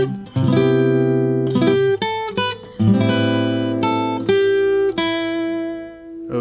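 Slow jazz chord-melody line in C on guitar, sustained chords and single melody notes ringing alone with clean, steady tone and brief gaps between phrases.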